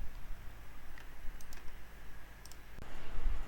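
A few faint, sharp computer mouse clicks, spaced irregularly, over a quiet background hiss, as a button is pressed in image-processing software.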